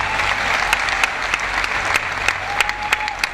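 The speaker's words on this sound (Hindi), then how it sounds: "जोरदार तालियां सर के लिए।" Loud, dense audience applause at a direct-selling success event, a close and continuous wash of clapping with a few sharper individual claps standing out, and no talking.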